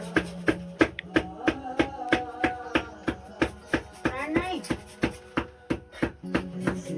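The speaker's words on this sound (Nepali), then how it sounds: "यहाँ प्याज काट्दैछ।" Onions are chopped with a knife on a board in quick, steady strokes, about three per second. The cuts are sharp and close, and voices and household sounds carry on faintly underneath.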